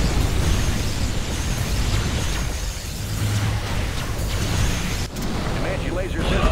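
Continuous loud roaring blast of a particle cannon strike in the real-time strategy game Command & Conquer Generals, a dense sustained rumble with crackling bursts, heard alongside game voice announcements.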